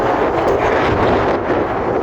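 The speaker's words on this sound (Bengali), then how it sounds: "দেখেন কী পরিমাণ বাতাস, বিকট বাতাস" A strong wind follows a stormy, rainy night and keeps up a dense, loud roar close on the microphone, with slight swells in force but no letup.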